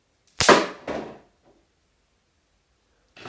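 A LEGO-built handgun fires once, a sharp close snap followed by a quick rattling second impact, then a near-silent pause before a brief noise at the end.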